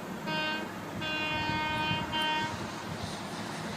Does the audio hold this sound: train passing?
yes